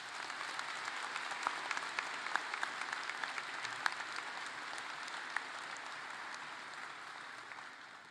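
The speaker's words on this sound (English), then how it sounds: "Please join me in applauding the hard work and dedication of our faculty and staff." Steady applause fills a large high school graduation ceremony as the crowd claps for faculty and staff, a dense sustained wash of many hands over eight seconds with no speech.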